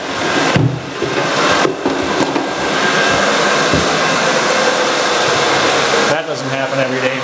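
A 10-inch CRB floor scrubbing machine works around a toilet, giving a loud, steady whirring drone that cuts out briefly twice and stops near the end.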